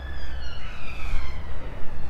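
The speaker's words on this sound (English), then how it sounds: "the police car going past." A loud police car siren wails past at close range, its rising and falling tone sweeping over a heavy low rumble of traffic.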